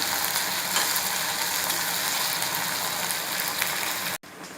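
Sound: stirring soya chilli with ketchup in pan

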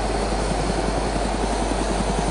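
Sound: helicopter flying in video game DayZ

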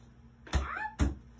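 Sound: cat meowing

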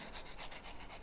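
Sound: pencil lead sharpened on sandpaper

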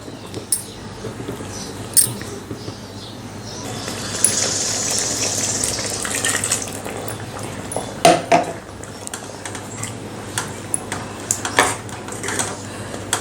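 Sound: hot water being poured into Konkani chicken curry

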